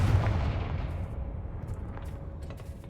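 A Confringo blasting curse explodes in a Harry Potter video game: one loud booming blast at the start, then a rumbling decay with scattered crackles and small pops.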